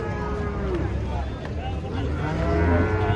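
Cattle moo loudly nearby while being unloaded from a truck, several overlapping calls amid crowd chatter and general outdoor commotion.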